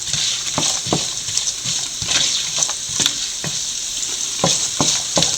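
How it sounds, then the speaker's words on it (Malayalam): Rabbit meat with sliced coconut pieces fries in oil in a pan, a constant close sizzle broken by repeated clacks and scrapes of stirring. "നല്ലപോലെ ഒന്ന് വറുത്തെടുക്കുന്ന പരുവത്തിൽ നമുക്കിത് വഴറ്റിയെടുക്കാം നമ്മുടെ തേങ്ങ കൊത്തിയിട്ടത്"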